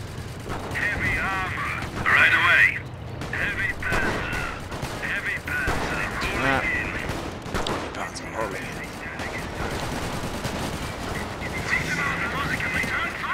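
World War I artillery in a Company of Heroes mod fires repeated heavy gunshot blasts and rattling bursts over a busy battle din, while someone talks over the action throughout.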